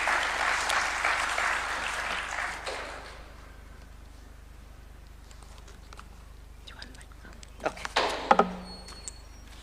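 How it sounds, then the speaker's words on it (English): Audience applause at a Kenyan political candidature launch event, a short burst of clapping that fades after about three seconds into quiet room noise, followed by scattered knocks and a brief voice. "Another round of applause."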